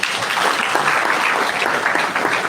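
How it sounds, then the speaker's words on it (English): Audience applause at a hospitality and tourism stakeholder gathering in Edo State, a dense steady clapping from a crowd that stays loud and even throughout. "Please, ladies and gentlemen, give yourself a rounding sound of applause."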